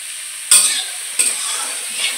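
Spices with turmeric powder and salt fry in a hot pan, a steady loud sizzle jumping up twice as a spoon stirs through them, close and continuous with no voices.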